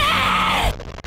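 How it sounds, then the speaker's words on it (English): Anime character Mikasa Ackerman lets out a loud, sustained scream lasting under a second, strained and harmonic, then cut off abruptly into near silence. "most of all I remember Mikasa as a girl who screams"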